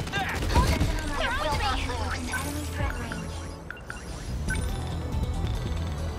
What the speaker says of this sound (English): Miura, I need your big, big cannon here.